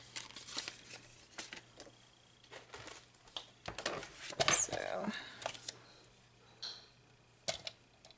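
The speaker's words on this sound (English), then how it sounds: "I'm just going to cut off like 1/8 of an inch right here." Scissors trimming a thin strip from a card stock border, a series of short snips and paper rustles scattered across the moment, with quiet handling noises and a speaking voice at times.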